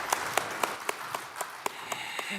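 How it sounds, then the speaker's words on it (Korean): Sparse rhythmic clapping from a church congregation during a Sunday worship service, about ten distinct claps at an even pace, moderately near with no voices. "하나님께 영광의 박수를 올려드리겠습니다"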